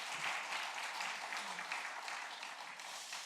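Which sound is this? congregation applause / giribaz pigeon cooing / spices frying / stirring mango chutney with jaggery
congregation applause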